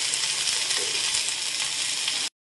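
Okra with green chilli sizzles in a pan, a steady close hiss of frying with no voices, cutting off abruptly at the end.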